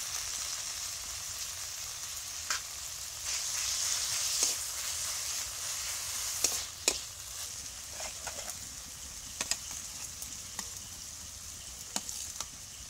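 Garlic paste and cinnamon sizzle and fry in hot oil for an Indian dahi chicken curry, a steady close hiss broken by scattered clicks and scrapes of stirring.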